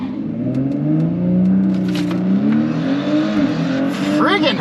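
A tuned Audi B9 S4 running E85 with a Stage 1 upgrade launches down a drag strip, its engine building boost into a loud rising roar with a sharp shift partway through, and a voice shouting near the end.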